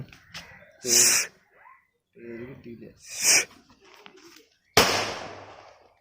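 Three loud firecracker bangs burst out one after another during an Eid celebration in Thrissur, Kerala, with people talking in between.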